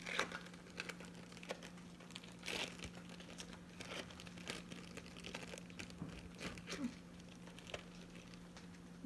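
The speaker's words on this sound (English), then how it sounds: "we need to take the cheese and unwrap it." Cheese being unwrapped from its plastic wrapper while making a sandwich on warm bread, giving steady soft crinkling and rustling close by, with no talk.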